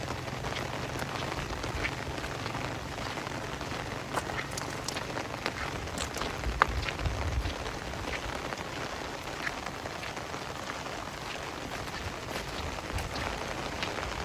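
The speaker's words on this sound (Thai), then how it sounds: "ฝนตกฝนบ่เห็นใจเลย" Heavy rain falls steadily during a days-long rainstorm with flooding, forming a dense, constant hiss with scattered close drops and no voices.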